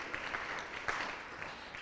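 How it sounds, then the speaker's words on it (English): Applause from a school debate audience for St. Paul's High School at a regional knockout contest, a steady, soft wash of distant clapping lasting under two seconds with no talk over it. "A round of applause, please, to St. Paul's High School"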